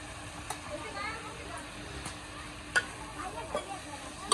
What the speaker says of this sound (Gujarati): બધું તેલમાં કકડાઈ જાય